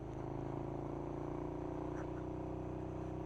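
A KTM Super Duke motorcycle is ridden on the road, its engine a steady, low drone mixed with rushing wind, heard fairly softly and without any clear revving.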